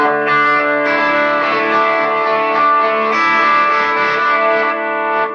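Sustained electric guitar chords through a Line 6 M13 drenched in delay and reverb, the mix raised by expression pedal, swelling into a lush, shimmering wash that rings on without pause.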